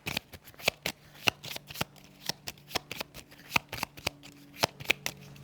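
Cards for the board game Stellarion are shuffled up close in a run of quick, crisp riffles and taps that come at an uneven rhythm.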